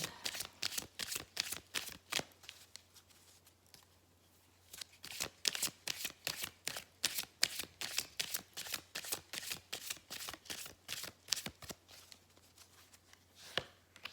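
Tarot cards being shuffled by hand, a quick rhythmic run of crisp flicks and taps, close and fairly quiet, with a short pause midway before the rapid shuffling resumes.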